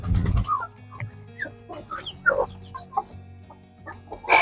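Poultry clucking in a coop where grown and young chickens share the space, with a busy overlapping mix of clucks and short calls that sound close and moderately loud. A brief low thump comes at the start.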